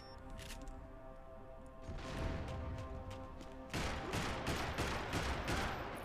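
Dense, continuous gunfire in the Max Payne 3 multiplayer shooter, with sustained bursts of rapid shots that grow louder and heavier midway through, filling the whole stretch without pause.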